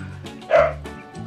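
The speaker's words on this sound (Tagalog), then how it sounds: "tapos may magtatahulang aso eh" A single sharp dog bark rings out close by, brief and clear, with a low steady hum underneath.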